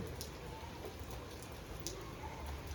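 Rain falling steadily, a dense even patter with a few brighter drops hitting nearby surfaces.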